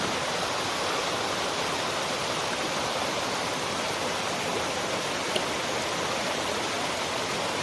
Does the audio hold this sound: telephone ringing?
no